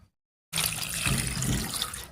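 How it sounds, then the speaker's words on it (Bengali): Running tap water splashes steadily as neem leaves are washed by hand, starting abruptly after a short silence and staying close and continuous. "এবারে পরিষ্কার করে ধুয়ে নিচ্ছি।"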